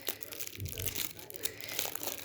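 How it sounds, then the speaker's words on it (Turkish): A trading card pack wrapper is torn open with crisp crinkling and ripping plastic, fairly quiet and continuous over a couple of seconds. "Kart açmayı zorlanıyorsanız bütün gücünüzle yırtın poşeti"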